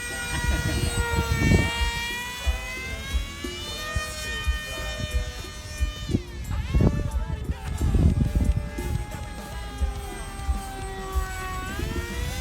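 An SU-27 model airplane on a test flight whines overhead with a rising and falling jet-like pitch that sweeps up and down as it passes, mixed with wind buffeting and outdoor bumps.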